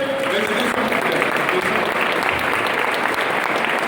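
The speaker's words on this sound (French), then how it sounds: "Attendez l'applaudissement pour Naïm." Audience applause at a gathering in the RATP historic rolling-stock reserve, steady dense clapping filling the whole stretch with a murmur of voices mixed in.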